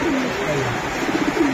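A racing pigeon coos close by in a low, throaty, repeated rolling call that runs steadily through the moment, with faint background murmur.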